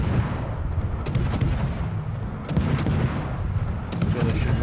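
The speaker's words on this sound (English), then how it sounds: "Let's finish him off with guns." Naval guns firing in World of Warships, the game's battle audio heavy and continuous with repeated booming salvos and sharp cracks across the stretch, loud and dense throughout.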